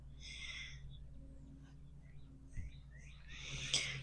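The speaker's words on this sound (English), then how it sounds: "You can just hear the birds chirping right now." Faint spring bird chirps and calls come in short bursts over a quiet low hum in a garden, some calls a bit closer near the end.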